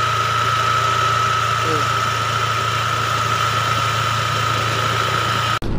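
Honda Click motor scooter engine idling steadily on its own, a constant mid-pitched drone with a high whine running throughout before cutting off abruptly near the end.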